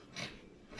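Scissors cutting fabric for a kimono jacket, a short quiet rasping snip or two, close and alone without talk.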